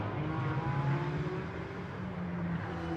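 GT4 race cars at Spa during qualifying, a continuous engine drone with shifting whining tones as the car holds speed, steady and moderately near throughout.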